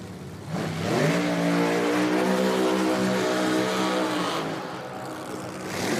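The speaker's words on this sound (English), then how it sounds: "as the burnouts begin here" Nitro drag racing cars do burnouts at an IHRA Outlaw Nitro Series Pro Am eliminations event: a loud, sustained engine roar with tire screech rising and holding for several seconds, then easing off, with a crowd atmosphere around it.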